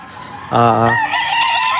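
An imported rooster on a farm gives a short, loud, close crow, with fainter clucking and other fowl calls around it.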